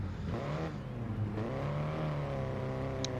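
GT race car engines revving on the starting grid at Monza in a racing video game, waiting for the start lights, with a continuous loud droning whine that rises and settles over a few seconds.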